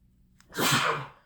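A single close sneeze bursts out after a brief intake of breath, loud and sharp before fading quickly.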